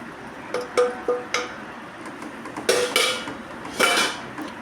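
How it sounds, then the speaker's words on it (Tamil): Powdered peanuts stirred into a boiling pan while making peanut burfi: a metal spoon clinks and taps against the pan several times, then scrapes in short bursts, close and clear with no voices. "பொடி பண்ணி வச்சுருக்கிற வேர்க்கடலை இதோட போட்டுக்க வேண்டியதுதான் போட்டு நல்லா கலந்துக்கலாம்"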